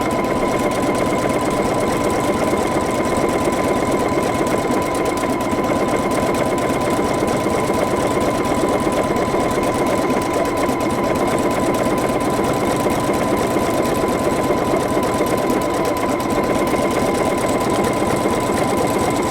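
A Pfaff Creative Icon sewing machine stitches floating stitches, running steadily and loudly the whole time with a fast, even mechanical chatter and a constant motor hum.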